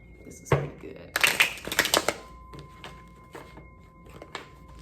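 A deck of affirmation cards is shuffled by hand, giving a quick burst of riffling, flapping card noise with a few taps and thunks around it in a quiet room.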